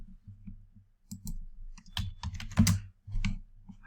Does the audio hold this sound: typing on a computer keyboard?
yes